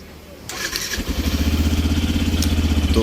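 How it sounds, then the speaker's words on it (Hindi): A Yamaha FZ-S motorcycle starts with a quick crank, catches and settles into a loud, close, steady idle with a rhythmic thumping pulse. "तो अभी हम इस बाइक को स्टार्ट कर लेंगे।"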